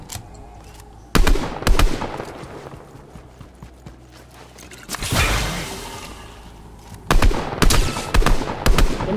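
Video game gunfire, rapid automatic bursts in loud clusters, one early burst, a mid-clip blast and a long rattling stream near the end, with mechanical clatter between.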